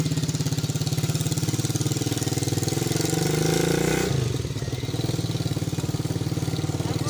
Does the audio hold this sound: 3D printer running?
no